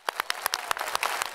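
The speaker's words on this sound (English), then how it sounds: "Clap 6 times." A conference audience claps in unison on cue, several sharp, distinct handclaps in a quick rhythm, close and fairly loud.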